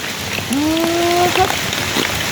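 Rain falls steadily outdoors, a constant hiss of drops on surfaces, with a brief tonal voice-like sound rising over it.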